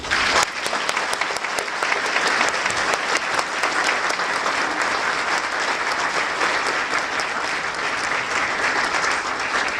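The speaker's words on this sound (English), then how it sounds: "Let's give her one more hand of applause." Loud, continuous crowd applause after a student's speech at a Globe University-Madison fall 2011 graduation ceremony, dense clapping sustained evenly for the whole stretch.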